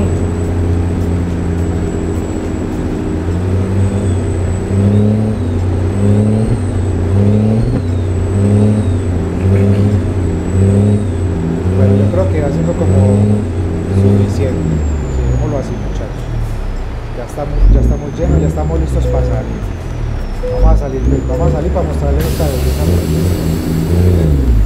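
A Western Star 4900 truck engine rated at 620 horsepower in American Truck Simulator revs in steady, rising and falling pulses. The loud, continuous drone runs throughout.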